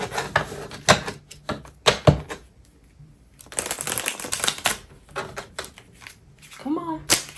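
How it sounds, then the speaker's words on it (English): Tarot cards are shuffled and riffled in short bursts during a reading, crisp papery flutters separated by pauses, with soft handling noises and a brief voice near the end. "I'm gonna do one last shuffle"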